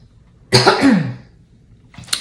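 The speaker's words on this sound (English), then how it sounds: "I need to clear my throat chakra." A single person clears their throat in one harsh, rasping burst lasting about half a second, heard close and fairly loud. A brief quieter noise follows after a short pause.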